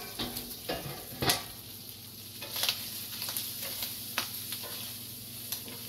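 Sausage for gumbo sizzles steadily as it browns in a pot, with several sharp scrapes and clicks of a utensil stirring it, close by and without talk.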